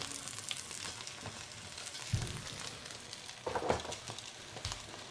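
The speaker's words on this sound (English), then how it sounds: "I hear the sizzling of the chicken." Quiet sizzling of roasting chicken, a soft continuous crackle with a few brief louder spatters, faint and distant.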